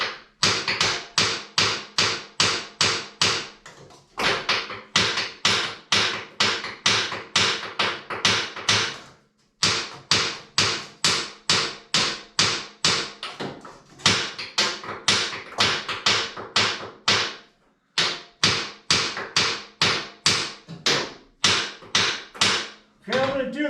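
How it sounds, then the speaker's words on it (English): A hammer bangs repeatedly on a heavy 120lb Axelson lathe chuck in a shed, a long series of loud, ringing metallic strikes in quick, steady bursts separated by a few short pauses. "So what I'm going to do is I'm going to take a hammer."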